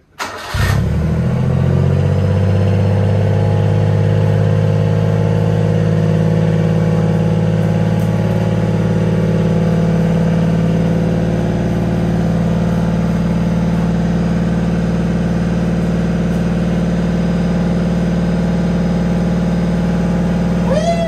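A Honda Acty kei van engine with an aftermarket GIGA N1 exhaust cranks and catches, then settles into a loud, steady idle with a deep, throaty exhaust rumble that holds unchanged.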